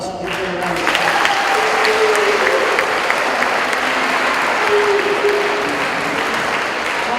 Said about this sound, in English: They have a big hand in making this day possible as well, so give them a round of applause.